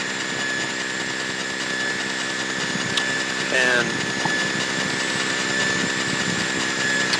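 Small airplane engine in cruise flight at about 7,500 feet on a solo cross-country trip, a steady dense droning hum with harmonic tones as revs rise slightly, loud and constant in the cabin.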